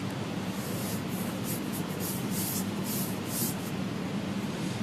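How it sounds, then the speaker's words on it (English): A dry brush rubs pastel powder across paper in a steady, continuous scrubbing hiss, close and fairly loud, with soft repeated strokes and no talking. "So we've got the pastel powder and a dry brush."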